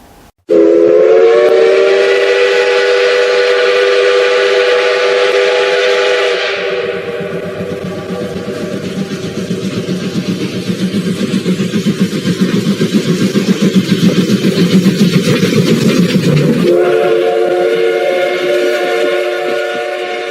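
A steam train whistle blows loud and sustained with rich harmonic tones, then gives way to a low rumbling chug of the departing locomotive before the whistle sounds again, with no talk over it.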